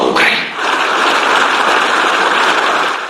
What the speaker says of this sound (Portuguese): Zelensky foi aplaudido de pé pelos eurodeputados